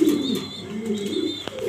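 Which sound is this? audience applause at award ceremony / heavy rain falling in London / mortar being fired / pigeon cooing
pigeon cooing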